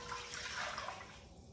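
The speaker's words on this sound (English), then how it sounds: "I'm going to add the broth. I have 4 cups of vegetable broth" Vegetable broth poured into a pot on a stove, a soft continuous splashing pour of liquid lasting a second or so, faint and close, with no talking.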